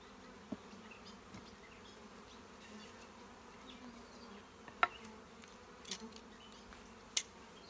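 Faint, steady buzzing from many honeybees at a distance around a newly installed hive entrance, with a few sharp clicks or knocks breaking through now and then.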